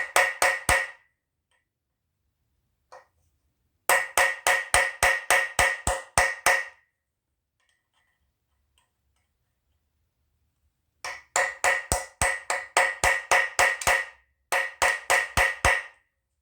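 A regular punch is struck repeatedly with a hammer into metal, sharp close metallic blows coming in quick bursts of about six to ten hits separated by pauses.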